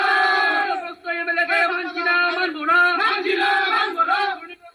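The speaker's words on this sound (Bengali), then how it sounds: "নিজের খাস তালুকে করণদিঘির তৃণমূল বিধায়কের বিরুদ্ধে উঠল স্লোগান।" A crowd at a protest meeting in Karandighi chants slogans in loud, rhythmic unison against the local Trinamool MLA, with voices rising and falling together and short pauses between phrases.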